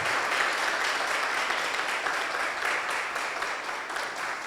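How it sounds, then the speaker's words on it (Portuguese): Congregation applauding in a church, a steady wash of clapping throughout, moderately distant and even in level with no talk over it. "Você pode aplaudir o Senhor por isso?"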